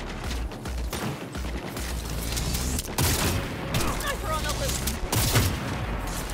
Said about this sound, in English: Sniper on the loose.